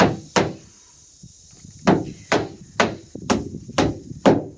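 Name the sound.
hammering during shed build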